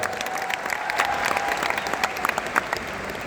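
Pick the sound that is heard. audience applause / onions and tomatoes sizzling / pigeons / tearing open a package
audience applause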